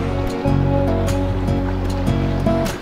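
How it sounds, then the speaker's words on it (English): Water churning out behind a small boat driven by a quiet electric outboard motor, a close, steady rushing wash with a low hum beneath it and no voices. "the only noise you can hear is the water coming out the back of the boat"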